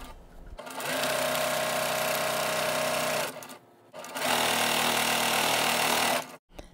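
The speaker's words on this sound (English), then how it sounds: "Now I'm attaching a fabric G rectangle to the bottom of the present unit and stitching." A sewing machine stitches quilt fabric for a Christmas presents block in two sustained bursts of fast, even whirring, close and loud, with a brief pause between runs.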